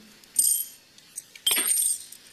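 Two bright metallic clinks, a coin landing in a cup, each ringing briefly before fading in a quiet room.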